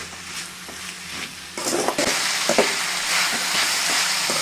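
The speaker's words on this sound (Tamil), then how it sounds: "சால்ட்டு போட்டு நல்லா வதக்கி விடுங்க" Ivy gourd (kovakkai) sautéing with salt in a pan gives a steady close sizzle and hiss, broken by the clatter and scrape of stirring. No one speaks.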